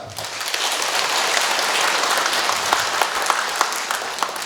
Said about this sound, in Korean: 오늘 이렇게 좋은 기쁜 날 우리 박수 한번 칩시다.